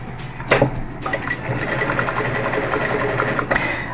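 A sewing machine stitching patchwork on a tea towel with a guipure lace border runs in a steady, fast mechanical whir after a few short starts, loud and close with no talking.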